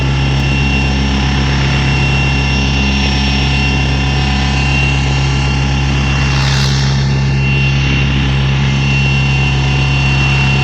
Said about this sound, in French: il tourne autour de moi, cet hélicoptère